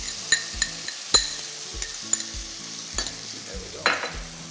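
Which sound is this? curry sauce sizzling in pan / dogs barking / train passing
curry sauce sizzling in pan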